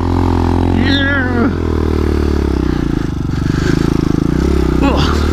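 A Hawk 250 dirt bike engine drones and revs steadily while churning through deep sand, loud and close throughout, with brief rises in pitch as the throttle opens.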